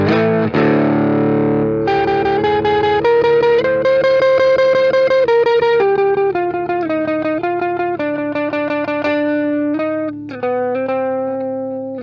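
An electric guitar plays through a Stax Odrive-1 overdrive pedal, starting with a sustained chord and moving into a run of distinct overdriven single notes and chords, loud and close, with no talk.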